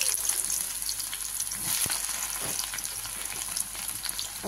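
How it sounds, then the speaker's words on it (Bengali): Chopped onion hits hot oil and sizzles in a steady, even hiss close by, broken by a brief stir, with no talking. "হয়ে গেছে আমার তেল গরম। এবার আমি দিয়ে দিচ্ছি পেঁয়াজ কুচিটা"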